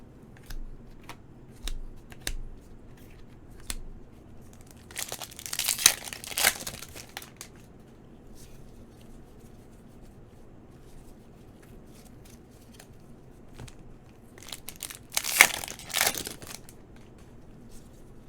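Wrappers on 2019 Panini NFL Five blister and booster packs crinkle and tear in two loud bursts, separated by quieter stretches of light card shuffling and small clicks. No one speaks.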